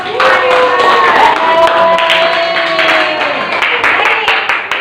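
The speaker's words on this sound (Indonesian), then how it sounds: "Tepuk tangan untuk semua hebat." Classroom audience claps for students, a dense patter of hand claps running throughout over a few overlapping voices and a tonal hum.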